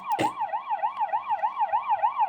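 A volunteer fire brigade engine's siren in a Roblox game wails in a fast, regular up-and-down warble, loud and close, with a short sharp burst at the start and no talk.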